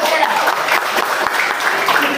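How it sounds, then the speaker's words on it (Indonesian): A class of ninth-grade junior high students claps for a classmate in their classroom, a dense, steady wash of hands that fills the short moment, with voices mixed in underneath. "Kasih tepuk tangan dulu"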